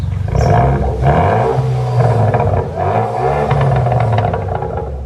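A Kia Forte 5 SX turbo with straight-piped dual exhaust revs loudly up close, its raspy engine note rising and falling through several throttle blips.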